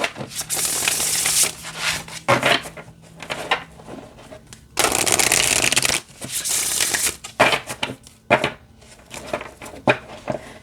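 A flexible oracle card deck riffle-shuffled in several quick bursts, crisp fluttering rattles separated by short pauses, close up.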